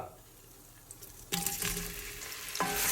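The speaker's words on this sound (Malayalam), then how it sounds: "സവാള ഒന്ന് നന്നായിട്ട് വഴറ്റി കിട്ടാൻ വേണ്ടിയിട്ട് പിന്നെ നമ്മളൊരു ഗോൾഡൻ ബ്രൗൺ കളർ ആവണ വരെ ഒന്ന് വഴറ്റിയിടുന്നു" Chopped onions sauté in hot oil with cardamom and cloves. A quiet start gives way to a loud burst of sizzling as they hit the pan, then a second surge of frying and stirring near the end.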